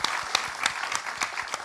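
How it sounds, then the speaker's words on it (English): Round of applause from an audience at a climate justice and human rights event at COP26, a short burst of steady clapping with a few sharper claps standing out. "I think that requires a round of applause."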